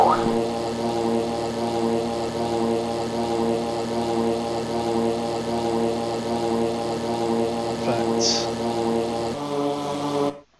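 A jet aircraft engine in flight in the Falcon BMS flight simulator: a steady, loud, close drone with a constant tonal hum that holds throughout, a brief faint chirp near the end, then cuts off abruptly.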